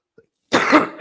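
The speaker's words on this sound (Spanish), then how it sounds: "La tos" A single short, close cough after near silence, with a tiny click just before it.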